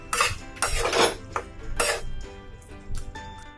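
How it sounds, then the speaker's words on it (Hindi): Metal spoon scraping and clinking in a pan while yellow peas are stirred with spices over a low flame for matar ghugni, coming in several uneven close strokes with short pauses between them. "लो फ्लेम में ही मटर को मिक्स कीजिए मसाले के साथ"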